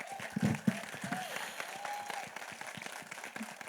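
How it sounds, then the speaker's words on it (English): An audience at the Bhoomi film trailer launch applauds, and the clapping comes through fairly faint and distant. A few stronger bursts come early, then it settles under a hum of crowd noise and some talking. "One big, huge round of claps, please"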